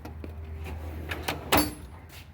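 Drawers on a new Mac tool cart with a slide top glide open with low rolling rumbles and light rattles, ending in a sharper metallic clack near the end.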